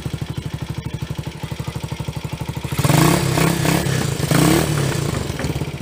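A Honda TMX motorcycle engine with contact point ignition idles with a steady, rapid putter after starting, then swells into a louder, rougher rumble with brief revs before settling again.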